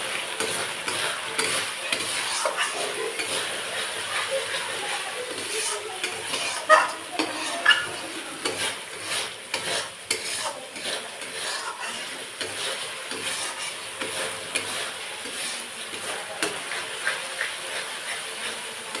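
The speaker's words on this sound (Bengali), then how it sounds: "এবার ভালো করে কষিয়ে নেব মশলাটা" Mustard masala with salt and turmeric being sautéed for a bhola fish curry, with a steady oily sizzle and hiss and repeated scraping stirs of a spatula in the pan. The cooking sound is close and continuous, with no talking.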